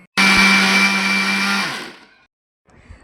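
Kitchen mixer grinder grinding rock salt and turmeric, a loud close high-pitched whirring roar that starts abruptly, runs steadily about a second and a half, then winds down to silence before a soft clatter.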